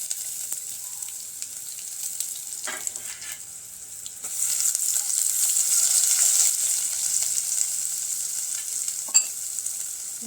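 Ginger garlic paste sizzles in hot oil alongside mustard seeds and cumin in a tempering, a steady hiss that swells louder midway, with a few brief clinks of stirring.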